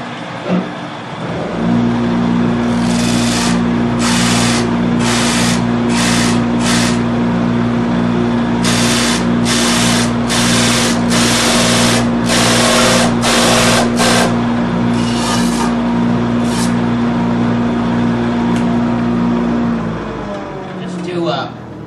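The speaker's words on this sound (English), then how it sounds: "I've got one more end to sand here" A power sander whirs steadily with a constant hum, broken by repeated bursts of harsher grinding as it sands the end of a mitered wooden assembly, running continuously up close.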